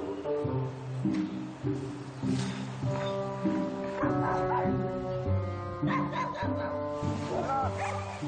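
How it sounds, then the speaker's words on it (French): Several dogs bark at baboons arriving in a wealthy Cape suburb, the barking half-buried under steady orchestral music that runs the whole time. "Comme d'habitude, l'arrivée des singes déclenche un concert d'aboiements."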